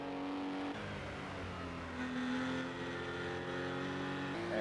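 Racing cars, a Porsche and an Aston Martin, go past with a sustained engine drone and shifting pitch at a moderate distance, one gear change audible partway through.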